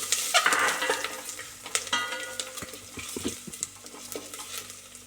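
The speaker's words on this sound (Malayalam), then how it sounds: "നമ്മൾ അരിഞ്ഞ് വെച്ചിരിക്കുന്ന വെളുത്തുള്ളി ചേർത്ത് കൊടുത്തിട്ടുണ്ട്." Chopped garlic frying over low heat in a pan for a masala curry, soft sizzling under repeated scraping and stirring strokes of a utensil against the pan, close and fairly loud.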